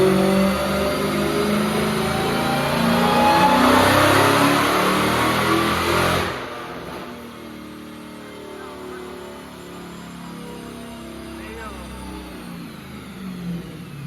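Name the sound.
Dodge Hellcat Redeye engine revving during a tuning pull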